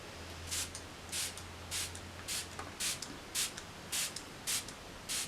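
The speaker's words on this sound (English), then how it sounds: "I'm just going to spray that over my face before I put on my foundation." Nine short bursts of fine primer water mist sprayed on a face in a steady rhythm, each a quick hissing puff, close and fairly quiet with no talking.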